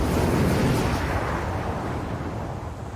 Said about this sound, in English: That's another big boom, and that's our last missile gone, basically.